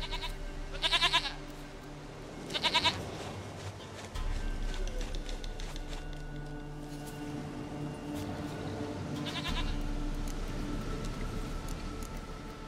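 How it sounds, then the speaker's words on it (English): A goat in the video game The Witcher 3 gives three short, nasal bleats near the start and again later, heard clearly over a steady bed of low game ambience and music. "goat of mine, dearest, sweetest goat."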